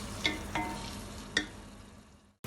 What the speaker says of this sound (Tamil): வெங்காயமும் தக்காளியும் இந்த அளவுக்கு மசிஞ்சு வர்ற அளவுக்கு நாம் நல்லா வதக்கி விட்டுக்கணும்